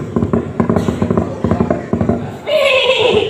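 A voice imitates a horse, with rhythmic clip-clop-like vocal clicks followed by a drawn-out whinny, loud and close, at a religious gathering in Aceh.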